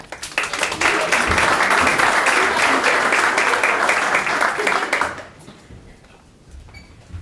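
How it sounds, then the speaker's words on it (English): At a ribbon cutting ceremony, an audience breaks into dense, sustained clapping for about five seconds, then it tapers off quickly into quiet room tone. "Clap for Jen."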